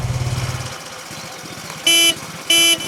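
Two loud, sharp blasts of a motorbike horn sound outdoors in the morning, each lasting about a quarter second, following a low engine rumble.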